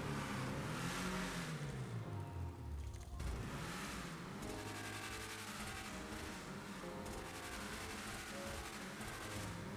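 Car exhaust revving in GTA 5 Online, from a custom Weevil during exhaust customization: a steady, loud engine drone with rising and falling revs that continues without a break, and no talk over it.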